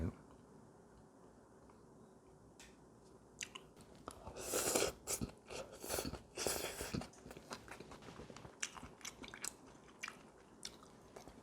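Braised short ribs with potatoes and vegetables eaten over rice, giving soft, irregular close-up chewing and biting sounds that rise in the middle. No one speaks over them.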